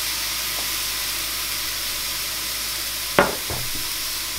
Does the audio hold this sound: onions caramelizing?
yes